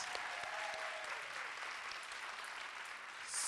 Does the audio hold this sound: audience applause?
yes